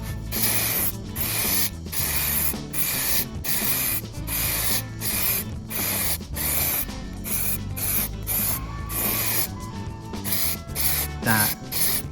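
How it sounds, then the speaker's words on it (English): Sanding block rubbed back and forth over a Ford Capri 280 body panel, a steady run of rhythmic rasping strokes roughly every half second, close and fairly loud, with faint clicks and workshop noise beneath and no talking. "I'm going to make it even smoother by rubbing it down. I've got this block"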